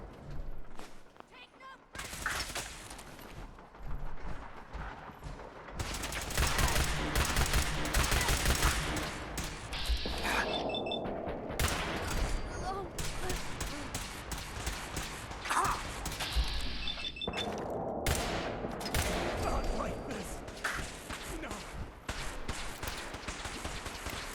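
Bursts of rapid gunfire from a survival video game, sharp rattling volleys in several clusters with brief pauses between, loud and close, under an intermittent voice.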